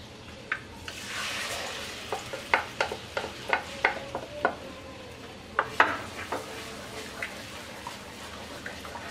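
Suji halwa batter cooks in hot ghee in a wok, with a gentle sizzle under a series of sharp metallic scrapes and taps as a spoon stirs against the pan, close and clear.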